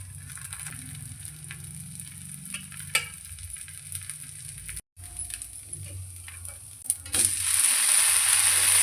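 Davangere benne dosa cooking in plenty of butter on a hot griddle, a continuous close sizzle with stirring and scraping clicks, a brief dropout, then a louder hiss swelling near the end.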